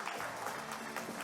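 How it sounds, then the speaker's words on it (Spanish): An audience at a talk gives a warm round of applause to welcome the speaker Rafael Bergoeing, heard as a faint, steady patter of many hands in a room. "recibimos con un fuerte aplauso a Rafael Berhuán"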